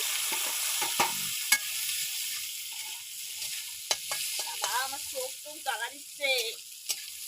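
Onions fry in oil with cumin, garam masala and bay leaf in a pan over a wood fire, giving a steady hiss of sizzling with occasional stirring scrapes and pops, while a voice speaks briefly at moderate volume.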